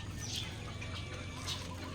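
Soft clucking from chickens in the rural countryside, a few short calls over a low steady background hum, fairly quiet and somewhat distant.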